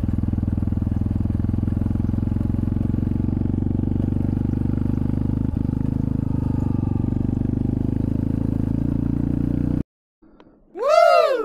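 A motorcycle engine labours loudly and steadily as it climbs a steep hill, droning close by before abruptly cutting out, followed by a brief rising whine.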